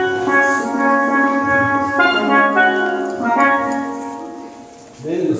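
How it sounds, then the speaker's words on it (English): A double tenor steelband pan, split across two drums, plays a melody of ringing, bell-like metallic notes struck one after another at a moderate pace, close and clear. "we have an instrument called the double tenor. Very similar to the single tenor in that it plays the melody"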